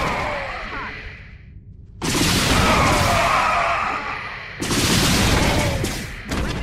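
Cloaked Banshees in StarCraft II unloading area-effect missiles on clustered Marines: a fading whoosh, then two loud, dense bursts of explosive blasts and crackle, each lasting a couple of seconds, ending with a short hit.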